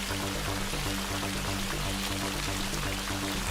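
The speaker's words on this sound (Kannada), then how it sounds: "ಆಗ ಕೂಡ ಮಳೆ ತುಂಬಾ ಬರ್ತಾನೆ ಇತ್ತು" Heavy rain pours down during a storm near a cave, a dense, steady, loud hiss of falling water that continues unbroken with no voices.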